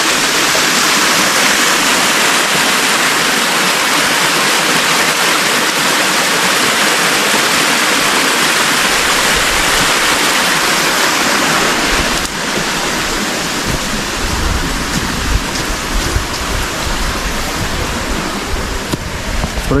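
Water pours steadily from the water source at a farm's water pump, a loud, constant rushing wash that stays even throughout with no voices.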